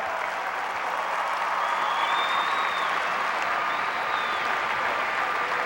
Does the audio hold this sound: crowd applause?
yes